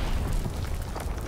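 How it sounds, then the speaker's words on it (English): A bomb explodes in the Call of Duty WWII video game with a short, loud, noisy boom and rumble that lasts about a second. "Enemy bomb incoming!"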